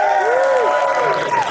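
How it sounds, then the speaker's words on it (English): Comedy club audience answering with applause and cheering, a dense wash of clapping mixed with whoops and raised voices, steady and close throughout. "By round of applause,"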